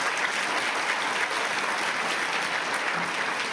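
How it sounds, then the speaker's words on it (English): Audience at the 42nd Annual Whitney M. Young Jr. Memorial Gala applauds steadily, a dense, even wash of clapping from a large room, sustained without break. "If we can give her a round of applause"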